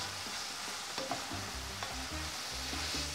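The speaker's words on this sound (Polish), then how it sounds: "Dobrze mieszamy." Chili con carne meat frying in a pan with Worcestershire sauce being stirred in, a steady sizzle under rhythmic scraping strokes of a utensil, close up with no talking.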